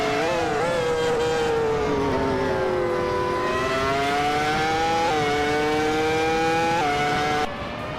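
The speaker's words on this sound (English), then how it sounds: "the race has kicked off at Road America" Racing video game engines scream at Road America, including a 1998 Benetton B198, with a loud high-pitched whine rising and dipping through gear changes as several cars blend together, steady and close, without talking.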